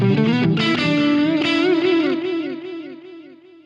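Electric guitar played through the onboard delay of a BOSS WAZA Tube Amp Expander, loud and slightly driven, a few sustained notes and chords whose repeats trail off and decay over the final second.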